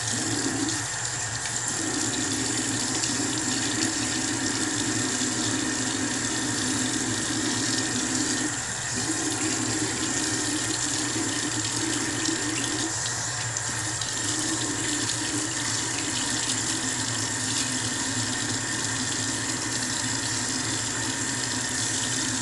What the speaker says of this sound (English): wash of the hands